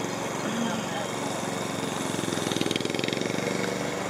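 A lawn mower engine runs steadily at an evening yard gathering, a continuous loud mid-pitched drone with a faint pulsing rhythm that strengthens toward the end.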